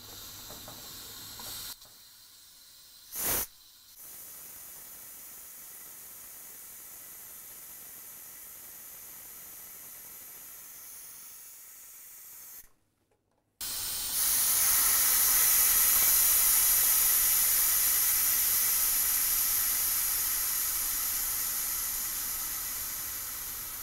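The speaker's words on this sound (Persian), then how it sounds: "پس همزمان از هر دو طرف میتونیم خیلی سریعتر بخار تخلیه بکنیم" Steam hisses loudly and steadily out of a pressure cooker's release valve, a constant rushing noise that jumps louder after a brief pause and then slowly fades.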